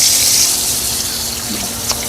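Kitchen tap running steadily while a mashing bowl or utensil is rinsed off during dinner prep, a continuous close water hiss without talk.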